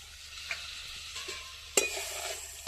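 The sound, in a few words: water added to frying spiced potatoes for aloo dum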